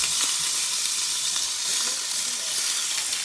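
Oxtail browning in a hot pan gives a steady, loud, broadband sizzle with scattered crackles, close by and continuous for the whole stretch.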